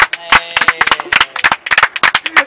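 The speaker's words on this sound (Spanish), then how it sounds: "Y yo sí quiero dar otro aplauso para Lorenza." Applause for Lorenza from a small group, with individual sharp hand claps in an uneven, close-up patter that speeds and slows, loud and distinct.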